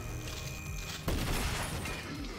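A single sniper rifle shot in the strategy game The Last Spell, one sharp broadband crack partway through, ringing into a short decaying tail over a steady low game backdrop.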